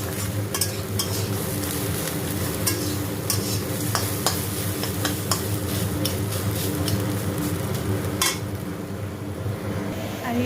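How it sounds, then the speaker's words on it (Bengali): Bitter gourd and potato pieces fry in a pan with a constant dense sizzle, punctuated by frequent clinks and scrapes of a spatula stirring against the metal, close and steady. "আলু কেটে নিয়েছি, এখন চলছে উচ্ছে আলু ভাজা।"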